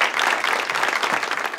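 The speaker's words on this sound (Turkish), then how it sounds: "Bir alkış." A studio audience at a Turkish talk show claps in a warm, continuous burst of applause, loud and close, filling the whole brief moment.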